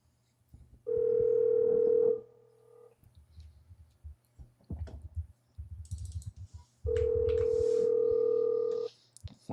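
Outgoing call ringing tone on an Android phone, quiet and tinny: two long steady rings separated by a pause filled with faint clicking and keyboard typing.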